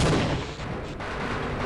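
Grenades going off in Half-Life as a dense, loud rumbling blast that fills the whole short moment without pause or talk.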